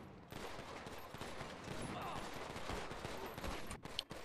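Rapid bursts of gunfire in a roleplay video game crackle steadily throughout, fairly quiet and dense, with a sharper shot near the end.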